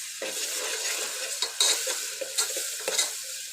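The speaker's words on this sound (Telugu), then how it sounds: "ఇప్పుడు ఈ రెండు మంచిగా ఫ్రై అవ్వాలి ఒక 2 మినిట్స్." Ginger paste fries in oil in a pan while being stirred, giving a soft sizzle with a series of scraping, clinking strokes of a spoon against the pan, close by and without speech.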